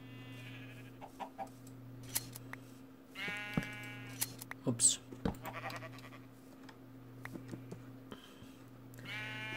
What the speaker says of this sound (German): Da stolpern wir hier über eine Herde Schafe